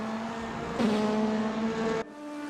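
BMW DTM race cars pass on the circuit, a steady high engine whine that swells abruptly into a louder, closer roar for about a second, then cuts back down.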